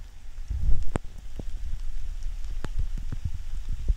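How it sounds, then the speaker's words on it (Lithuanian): Steady heavy rain patters around hikers in a gorge, a dense hiss with scattered close drops and wind buffeting the microphone, loud and continuous. "Lyja vis dar taip pat stipriai, jeigu ne stipriau kartais."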